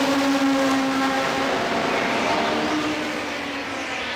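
Historic Formula Junior race cars roar past at Silverstone, a loud, continuous engine drone with a shifting tone as the cars go by.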